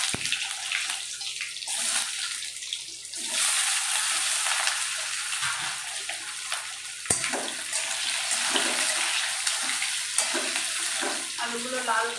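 Potatoes go into hot oil already tempered with cumin and bay leaf, setting off a loud, continuous sizzle and hiss, with occasional scrapes and clinks of stirring.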